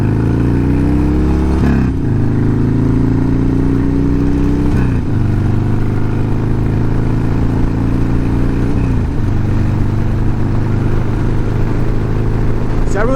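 Harley-Davidson motorcycle cruising on an open road, a loud continuous engine drone with wind rush and a few brief shifts in pitch, heard close from the rider's position.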